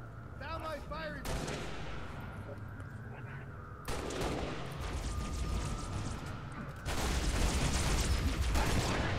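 Sustained gunfire rattles through a Halo Reach firefight, dense rapid bursts and heavy blasts layered over each other, growing louder in sections, with faint game voices mixed in.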